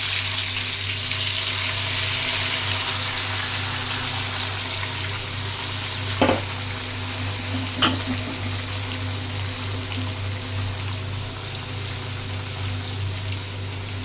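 Koi fish coated in spices frying in a generous amount of oil hisses steadily, a close, even sizzle with a couple of brief louder spits partway through and no talking.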